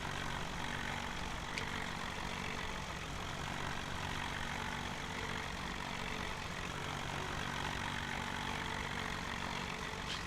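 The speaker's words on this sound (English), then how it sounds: "I think this is like a 40 horsepower tractor" A 40 horsepower tractor engine in Farming Simulator 17 drones steadily and evenly throughout, a constant mid-loud mechanical hum with no talking.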